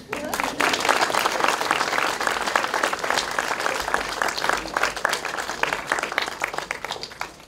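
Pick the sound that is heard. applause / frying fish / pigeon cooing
applause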